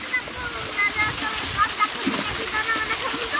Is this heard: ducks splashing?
yes